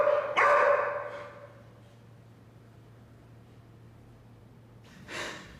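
A dog named Bello lets out a loud, harsh vocal burst up close, then falls quiet through a long low hum before a second, shorter snort-like outburst near the end.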